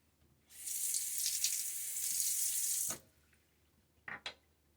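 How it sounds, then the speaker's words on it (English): Cool water runs from a bathroom tap for a rinse after shaving, a steady close splashing stream for a couple of seconds, then stops, followed by a few short splashes. "Now let's get a full rinse. During the rinse, I use cool water"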